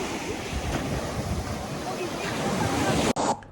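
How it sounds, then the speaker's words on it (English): Ocean waves wash onto a Fiji shore in a steady, broad roar with wind buffeting the microphone, continuous and close, then cut off abruptly near the end. "Let's go to the ocean."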